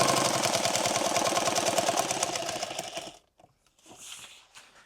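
A sewing machine stitches a rifle magazine pouch in a fast, even run of needle strokes for about three seconds, then stops abruptly, leaving a few faint handling sounds.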